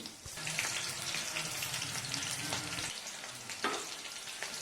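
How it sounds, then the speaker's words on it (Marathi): Green chilies spit and sizzle in hot oil in a wok, a close, busy frying hiss with crackles and a few sharper pops over a few seconds. "कढईत तेल टाकून घेतलं हिरवी मिरची झणझणीत होण्यासाठी लवंगी हिरवी मिरची टाकली"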